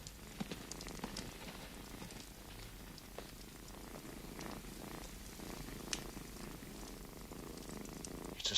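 A cat purrs softly and steadily in a quiet room, a low continuous rumble with no voices over it, ending in a brief louder rustle.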